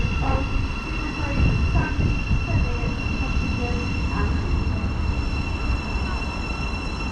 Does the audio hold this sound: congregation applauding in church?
no